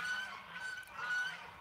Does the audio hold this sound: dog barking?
no